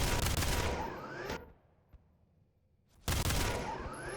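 Dense bursts of machine gun and rocket launcher fire in an arena video game match rattle loudly, drop to near silence with a lone shot in the middle, then resume just as heavily.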